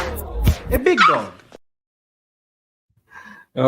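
A person imitates a big dog, letting out a couple of loud, throaty barks and yelps up close, followed by silence and a faint voice near the end.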